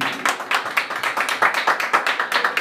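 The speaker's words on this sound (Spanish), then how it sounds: "El aplauso bien bonito, claro que sí." Applause at a birthday party with a mariachi band, a small group clapping in brisk, fairly regular rhythm, close and clear with distinct individual claps and no talking.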